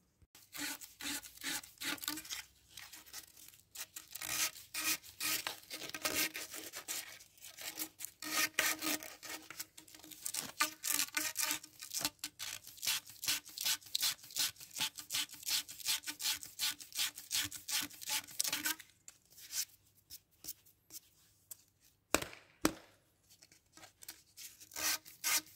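The cut edges of a DN 25 PVC pressure pipe are scraped by hand after cutting with a pipe cutter, giving a long run of quick, rhythmic rasping strokes, close and fairly quiet, with no talking.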